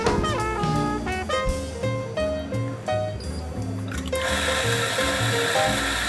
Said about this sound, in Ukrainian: далі ми готуємо еспресо